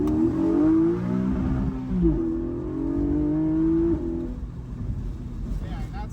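A Porsche 718 Boxster GTS 4.0 engine revs hard under acceleration, a loud rising engine note that climbs, dips briefly and climbs again before easing off, with some voice faintly underneath.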